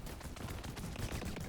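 Torgue weapons fire in Borderlands 3 as a burst of heavy, rapid explosive shots, dense and punchy, over a game soundtrack.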